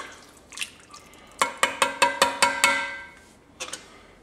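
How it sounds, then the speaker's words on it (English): A whisk stirs Tabasco hot sauce into a Cajun pot roast mixture, clinking against the bowl in a quick run of about eight bright, ringing taps, followed by a brief pause and two more. "And some Tabasco, or your favorite hot sauce. Give that a good whisk."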